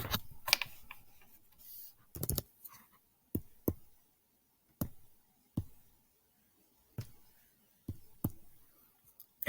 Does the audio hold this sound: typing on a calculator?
yes